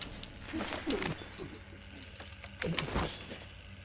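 Keys jangling in F.I.S.T. Forged in Shadow Torch, a series of light metallic clinks and rattles scattered across a few seconds over a soft background ambience.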